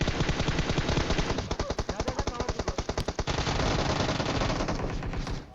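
Gunfire in the PUBG Mobile video game: loud, rapid automatic bursts, a sustained stream that breaks into distinct evenly spaced shots mid-clip, then resumes as a dense continuous volley.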